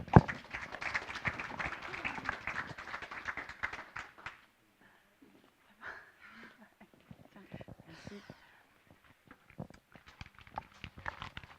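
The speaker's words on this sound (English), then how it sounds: "If we could have a quick round of applause for her," A quick round of audience applause at a startup accelerator talk, dense clapping for about four seconds that fades into scattered claps and room noise, with a few sparse claps returning near the end.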